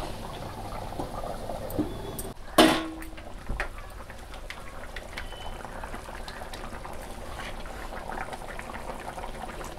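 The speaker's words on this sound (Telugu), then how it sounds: "ఇలా మూతేసి ఉంచుకుంటే ఒక 20 నిమిషాలు ఉడికిపోతుంది" An Andhra fish curry with mango simmers in a covered pot, giving a soft, continuous bubbling with faint pops and one sharp clatter near the start.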